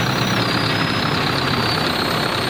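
Heavy truck engine idling steadily and close by while a load is tipped out at a rural kitchen garden plot, a constant low rumble with a broadband wash on top and no voices.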